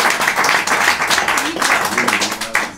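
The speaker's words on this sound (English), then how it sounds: "Give a big round of applause." At an Edinburgh Fringe comedy show, the audience bursts into loud, sustained clapping to vote for a comedian, with some cheering and voices underneath the dense applause.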